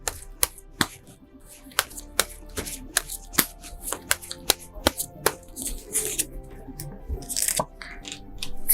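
Tarot cards being shuffled and drawn, heard as a string of sharp, close snaps and riffling flicks at an irregular rhythm, with a brief rustle of card handling midway.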